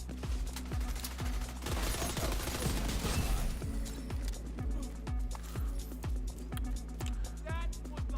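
Rapid gunfire from a Doctor Home rifle loaded with Golden Bullet in The Division 2, a steady fast string of close, loud shots running throughout, with other combat noise mixed in behind.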